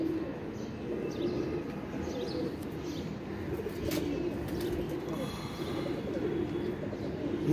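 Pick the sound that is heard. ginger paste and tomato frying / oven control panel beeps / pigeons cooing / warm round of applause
pigeons cooing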